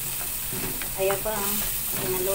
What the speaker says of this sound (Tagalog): Ngayon, magigisa na tayo.